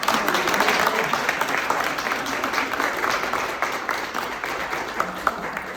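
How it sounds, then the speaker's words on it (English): Full audience applause for a speaker at a research presentation, a dense, continuous patter of many hands clapping at steady loudness throughout. "So if you guys would join me in giving him a round of applause."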